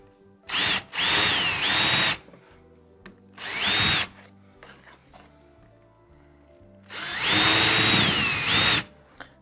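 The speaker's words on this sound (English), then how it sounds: "Countersink time." A power drill countersinking holes while working on a Wrath guitar upgrade, in three loud whining bursts, each spinning up to a steady pitch and cutting off, with quiet pauses between them.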